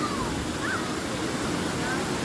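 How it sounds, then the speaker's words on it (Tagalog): A waterfall pours into a pool where people are bathing below, giving a steady, close roar of rushing water with a faint tone or voice drifting over it. "Grabe oh. Yung bulusok ng tubig oh."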